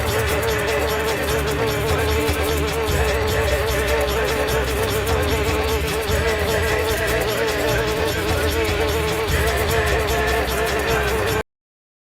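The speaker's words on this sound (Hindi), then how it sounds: "मुझे विषैली मधुमक्खियों के आक्रमण से बचना होगा।" A dense, continuous buzzing drone of many insects, like a swarm of bees, loud and steady throughout before cutting off abruptly.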